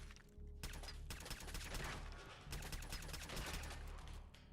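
Gunfire in the video game Fallout 4 sounds as rapid, dense bursts of shots that blend into a continuous loud volley. The firing holds steady for several seconds over a rumbling backdrop.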